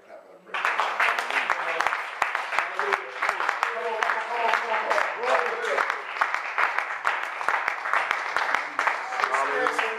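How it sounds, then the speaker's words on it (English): A church congregation claps and praises during a sermon, dense rhythmic hand claps mixed with cheering voices and organ-like tones, loud and sustained after a brief quiet start. "give him a hand clap and a praise"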